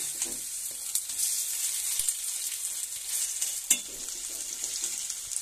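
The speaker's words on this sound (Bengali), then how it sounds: "আর অপর পিঠটাও ভালো করে ভেজে নিচ্ছি।" Ripe pumpkin fritters (kumro bora) frying in oil, a continuous moderate sizzle and crackle with occasional clicks and scrapes as the fritters are flipped.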